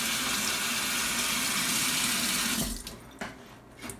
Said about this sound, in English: now I'm gonna wash the carrot